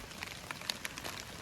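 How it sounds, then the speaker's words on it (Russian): Heavy rain falling outdoors on a blackberry patch, a faint steady wash of patter with scattered sharper drops tapping nearby leaves and surfaces, no voices. "Можно сказать, даже ливень идет."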